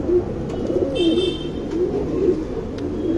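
A male and female tournament pigeon pair coo softly and repeatedly at close range, low rolling calls over a faint background hum, with no talking.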